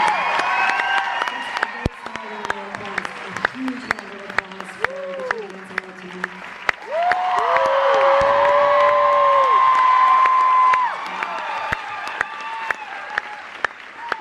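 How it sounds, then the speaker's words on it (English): A large concert crowd at the Paramount Theatre in Austin, Texas applauds and cheers loudly and continuously, with whoops rising and a swell of cheering midway. "A huge round of applause for them."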